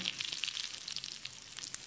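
Brief, crackly sizzle of mustard seeds spattering in hot oil, a fine popping hiss heard up close and fairly quiet.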